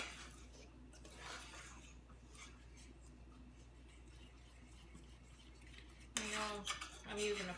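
A metal fork stirring hot fudge sauce in a pan, steady soft scraping and clinking throughout, growing louder with sharper metallic taps near the end.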